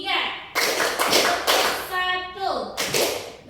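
A classroom group claps on a teacher's count, several sharp, loud bursts of hands striking together in uneven rhythm, with children's and adult voices chanting between the claps.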